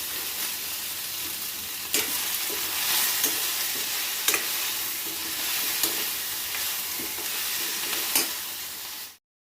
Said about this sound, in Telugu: ఇవన్నీ బాగా వేగనివ్వాలి పచ్చివాసన రాకుండా పచ్చిమిర్చి బాగా వేగాలి టమాటాలు తర్వాత దొండకాయలు